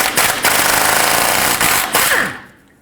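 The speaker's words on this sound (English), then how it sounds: "Use your 19mm socket," An impact wrench drives a 19mm socket on the lower tie rod nut of a 2008-2010 Ford F-250, giving loud rapid hammering bursts with brief pauses before it winds down and stops.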